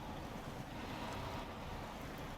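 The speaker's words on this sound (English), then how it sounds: "Let's try driving in the water" Truck in SnowRunner wading through water, a steady broad wash of sloshing and rushing noise with a low rumble, continuous and fairly even throughout, with no talk.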